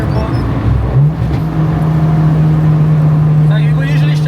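An Acura Integra GSR with an L15B7 engine swap pulls hard in third gear, its engine note a steady, rising drone heard from inside the car, loud and close throughout.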